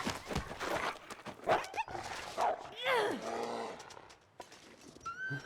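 A dog barks, yips and whimpers in the survival video game The Long Dark, several rough calls mixed with game noise and a person talking over it.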